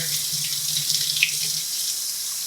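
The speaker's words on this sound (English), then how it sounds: "Just take your asparagus, give it a good rinse in the water." Asparagus spears are rinsed under a running kitchen sink tap, a steady hiss of water with faint splashes as the stalks pass through the stream, close and continuous with no talking.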